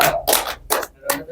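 A few sharp hand claps in a podcast studio, four quick bursts close to the microphone within about a second.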